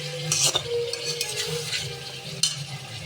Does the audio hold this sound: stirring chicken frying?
yes